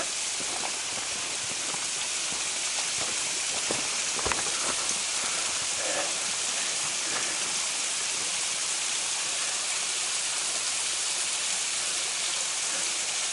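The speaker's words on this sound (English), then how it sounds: "That's not all of the waterfall." Steady broadband rush of falling water from a waterfall on the Collins Trail in Savage Gulf, continuous and even throughout with a few faint knocks, no voices.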